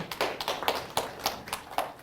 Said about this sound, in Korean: 성룡 아저씨한테 박수 한번 크게